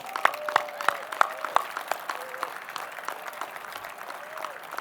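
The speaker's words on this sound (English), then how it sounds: "I love the clapping, but where's the woohoo?" Audience at a university business school centennial event clapping, sparse distinct claps at first over a talking voice, spreading into lighter, thinning applause with scattered individual hand claps.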